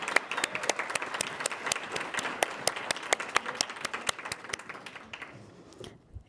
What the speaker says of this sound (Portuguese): Uma salva de palmas para Luísa.